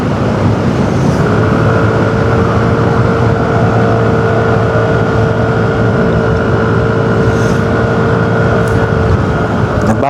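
A Yamaha X-Max 350cc scooter engine drones steadily and loudly while riding on a road in Rizal Province, Philippines, with its pitch holding fairly even and wind buffeting throughout.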